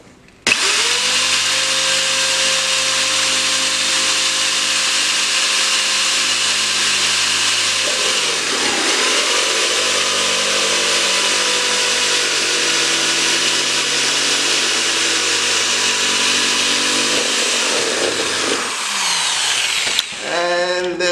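Loud, continuous whine of a power tool with a toothed hole-cutting bit boring through a bucket to fit a heating element, running steadily for about twenty seconds with a brief dip in pitch midway and cutting off at the end.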